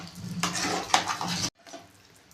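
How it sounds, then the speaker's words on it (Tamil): Tempering being stirred into ven pongal in a pot, a close, wet scraping and clinking of a spoon against the vessel for about a second and a half before it stops abruptly, leaving near quiet; no voices. "இந்த தாளிப்பை இதில் சேர்த்துக்கலாம் நல்லா கிண்டி விடணும்"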